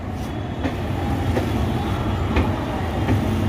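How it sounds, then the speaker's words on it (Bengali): Steady low rumble of an Indian Railways WAP-5 electric locomotive hauling the Howrah–Katihar express along the tracks with occasional clicks, a continuous heavy mechanical drone throughout. "হাওড়া ব্যাপ ফাইভ আসছে আজকে ফুল করবে কাটিয়ার এক্সপ্রেসকে"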